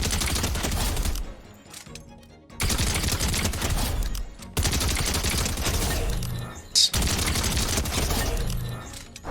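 Rapid bursts of combat SMG gunfire in Fortnite Chapter 4, several loud sustained volleys separated by brief pauses, dense and close.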